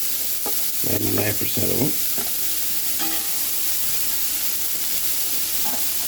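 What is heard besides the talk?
onions sizzling in a pan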